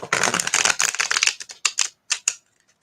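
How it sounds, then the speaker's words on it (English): A deck of Arthurian Tarot cards is shuffled by hand: a dense, crisp run of riffling and snapping for over a second, then a few separate slaps and taps that trail off into silence, close and fairly loud. "Make sure this is shuffled good."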